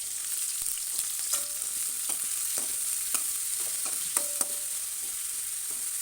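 Chopped onions and green chillies frying in a pan, a bright steady sizzle with intermittent clicks and scrapes from stirring, no voices.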